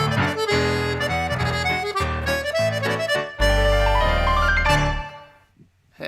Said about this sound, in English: So here is the theme tune.